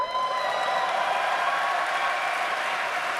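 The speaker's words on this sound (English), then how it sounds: "This was the loudest the crowd were the entire time" A large crowd at the Gamescom Opening Night Live show roars with sustained, dense applause and cheering, loud and continuous throughout.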